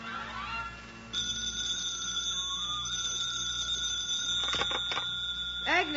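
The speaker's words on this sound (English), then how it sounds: "The phone rings." A telephone rings in a quiet apartment at breakfast time, a bright electronic ring repeating steadily for several seconds at moderate volume.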